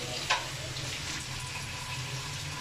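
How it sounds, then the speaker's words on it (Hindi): Noodles for chicken chow mein frying steadily in a pan, a continuous soft sizzle with one brief clatter near the start, heard up close with no talking. "अब हम इसके अंदर अपने नूडल्स ऐड करने लगे"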